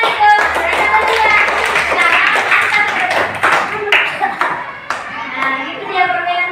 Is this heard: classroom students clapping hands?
yes